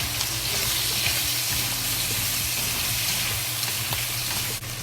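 Sichuan red chili peppercorn and ingredients for big plate chicken fry in a pan, giving a steady, fairly loud crackling sizzle throughout with no talking.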